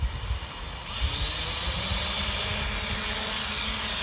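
Motors of a Hubsan X4 Desire Pro H216A quadcopter drone spin up, then settle into a steady, high-pitched whine and buzz as it lifts off and flies, close and loud with no talk.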